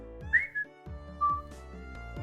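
Character whistling in the visual novel game Higurashi: When They Cry, two short tuneful whistled phrases over soft game music, close and clear with no talking.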